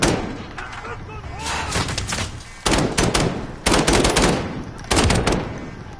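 Video game gunfire crackles in loud bursts of rapid automatic shots separated by short lulls, with voices calling out in the background.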